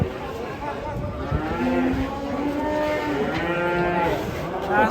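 An enraged cow moos loudly and close, long drawn-out bellows that rise and fall across the whole stretch, with voices faintly underneath.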